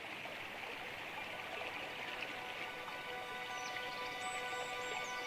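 A Baltic stream flows steadily in the open, giving a continuous soft rushing and trickling wash with faint high bird calls drifting over it.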